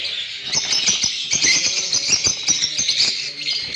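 Albino red-eye and creamino birds in an aviary keep up a dense, steady chatter of high chirps and tweets, with soft wing flaps and rustles underneath, continuous and fairly close.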